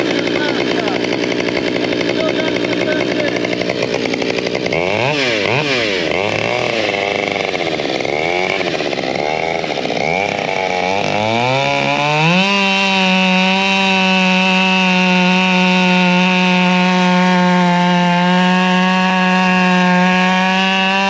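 A prototype 572 big bore chainsaw engine, a build intended for the 500i, sputters and surges unevenly before settling into a loud, steady high idle, with a voice talking over it.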